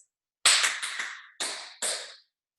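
Crisp tap shoe strikes on a hard floor come in three quick bursts: a rapid cluster of four sharp taps, then a pause and two single louder stamps. Each hit rings out briefly in a quiet room with no talking.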